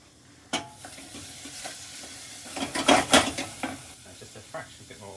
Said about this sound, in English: going to add the peppers, garlic and onions to the pan. We're just going to sweat them